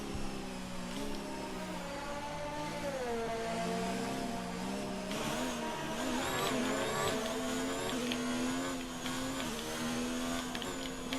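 Formula 1 cars on track in the F1 2019 racing game during qualifying in Austria: a continuous high whining engine drone that rises and falls with throttle, several cars layered together, no talk.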